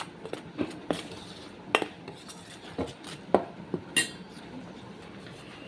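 Dry gram flour and cornflour being mixed in a bowl for a Bengali eggplant fritter batter, with irregular light clinks and scrapes of a spoon against the bowl, fairly close and moderately quiet.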